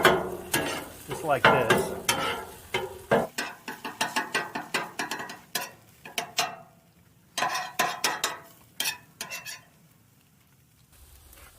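A metal spatula chops eggs on a Blackstone griddle with the heat off, giving rapid rhythmic clacks and scrapes in bursts, close and fairly loud, with short pauses and a brief spoken phrase.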